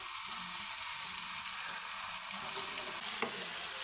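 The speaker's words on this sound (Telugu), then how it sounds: "కొత్తిమీర ఎక్కువగా వేయించకూడదండి" Coriander leaves fry in a pan for a village-style gongura roti pachadi chutney, making a close, steady crackling sizzle with light stirring scrapes throughout.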